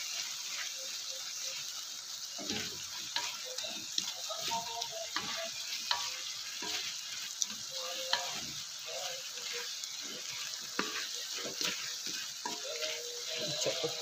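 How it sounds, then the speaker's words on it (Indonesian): Washed papaya flowers stir-fried in a pan give a steady, close sizzle throughout. Repeated scraping and clicking stirring strokes sound over the top, with no talking. "kemudian kita masukkan bunga betik yang dah kita selur tadi"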